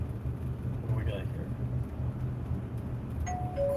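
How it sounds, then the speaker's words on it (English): A house alarm gives a short electronic ding-dong chime near the end, over faint background hum and rumble. "what that ding dong and door squeak noise is, that's the alarm on my house going off"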